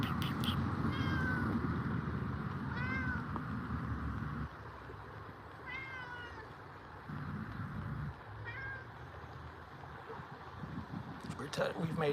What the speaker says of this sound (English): That might be a go away meow.